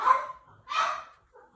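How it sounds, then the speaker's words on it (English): Two loud, close dog barks, spaced apart, followed by a faint trailing yip. "Oh my goodness, they're barking their life out."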